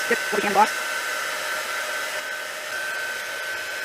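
A heat gun blows over crackle paste on an art journal page, a steady, close whooshing hum that runs throughout, with a brief voice heard at the start.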